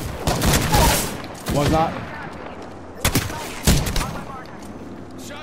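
Bursts of rapid gunfire from a Mirage-themed shooter video game crackle in loud clusters, some sustained like automatic fire, while a player speaks briefly over them.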